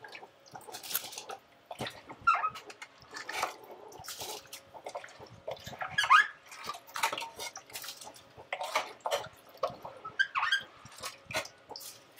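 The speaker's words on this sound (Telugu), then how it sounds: "ఇక్కడైతే ఎసరు వస్తుంది. ఎట్లా మసులుతుంది చూడు." Rice in mutton cooking water simmers in a pot for Hyderabadi mutton biryani, with faint, irregular bubbling pops and small clinks and no voices.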